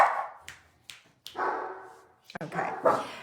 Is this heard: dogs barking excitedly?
yes